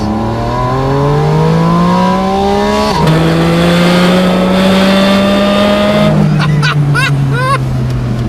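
A 2025 Porsche Spyder RS engine roars loud and close, holding a strong drone that climbs through rising revs, with two gear changes and crisp pops near the end.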